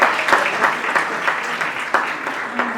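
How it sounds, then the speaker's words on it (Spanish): A crowd applauding steadily, dense clapping with a few sharper individual claps standing out, fairly close and loud throughout. "Un aplauso para Natalia."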